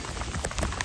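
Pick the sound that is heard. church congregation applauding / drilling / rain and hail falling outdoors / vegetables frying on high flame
rain and hail falling outdoors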